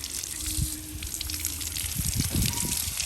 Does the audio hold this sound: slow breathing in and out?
no